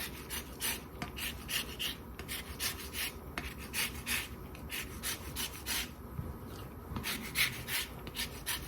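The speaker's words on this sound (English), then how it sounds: "I'll zest the lemon first" A lemon being zested for a Filipino tapsilog breakfast marinade gives a steady rhythmic rasping, repeated short scraping strokes close by, quiet and alone without talk.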